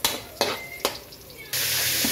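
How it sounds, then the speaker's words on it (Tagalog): Onion and garlic are sautéed in a pan. A few quick clacks of stirring come first, then a steady, bright sizzle takes over and holds close and loud. "So ayan, gisa na natin. So ayan, mekos nyo lang yung sibuyas, bawang mga tropa."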